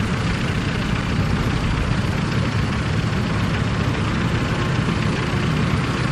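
A vintage tractor engine idles at a steam and vintage rally in Sheffield, a steady low rumble that holds even and loud for the whole stretch, close by with no talk over it.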